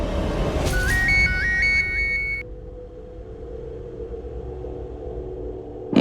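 A mobile phone ringtone plays a quick repeating electronic melody of rising notes, bright and clear over a low rumbling background, then stops abruptly after a couple of seconds.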